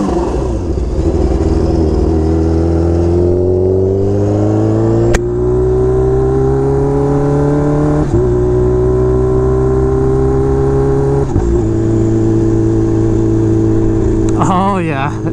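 A brand new Kawasaki H2R motorcycle on slick tires rides through the rain. The engine sounds loud and close, climbing steadily through the gears with distinct shifts, all under constant rushing wind.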